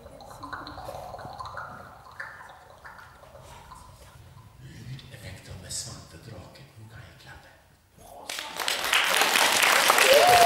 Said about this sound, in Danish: Denne ploppende lyd af vand.